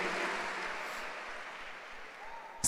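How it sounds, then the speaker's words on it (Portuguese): A church congregation applauding during a Sunday service, a steady wash of clapping that holds at a moderate level and tapers slightly before a sharp sound at the very end. "Eu acho que são os jovens solteiros que estão aplaudindo"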